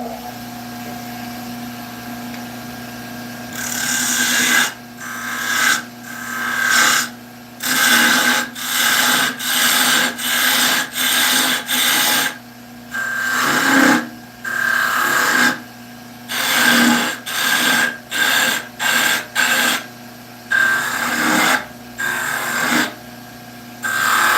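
Wood on a lathe spinning at about 2150 rpm while the stem is cut, giving repeated bursts of loud, hissing scraping, short and irregular, separated by quiet pauses.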